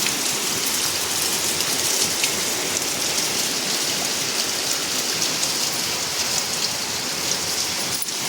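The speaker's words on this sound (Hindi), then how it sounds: "देखो कितनी तेज विकट वाली बारिश पड़ रही है।" Heavy, intense rain falls steadily, a dense constant hiss of drops pattering on surfaces close by, unbroken and loud throughout with no voices.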